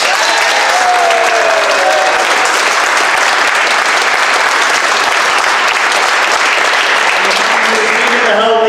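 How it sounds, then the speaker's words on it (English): A live football event crowd applauds the Doncaster Rovers club captain, Andy Butler, with loud, dense clapping that holds steady throughout before easing slightly at the very end. "let's have a round of applause"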